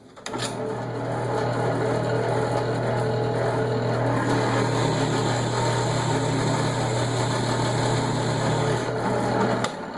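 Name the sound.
drill press boring a hole with a Forstner bit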